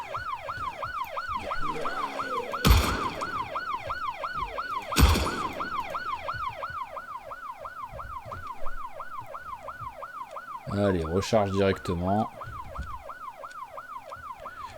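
Wailing emergency sirens in a zombie video game rise and fall in a steady, repeating cycle throughout, loud and close, broken by a few sharp impact bursts and a short stuttering mechanical clatter; someone briefly speaks.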